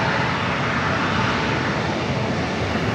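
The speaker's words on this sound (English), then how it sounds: "this A321neo heading to Dallas, Fort Worth, Texas, lining up there on runway 27" An Airbus A321neo airliner bound for Dallas Fort Worth lines up on runway 27 at San Diego airport, giving a steady, loud broadband engine roar with even, continuous intensity and no talking.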